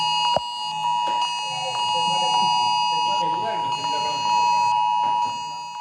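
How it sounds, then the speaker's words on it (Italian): A public emergency alert test sounds from mobile phones in Sicily: a steady electronic alarm tone drones on for several seconds, with speech running over it throughout. "alle 12 in punto i telefoni cellulari dei siciliani hanno vibrato e suonato"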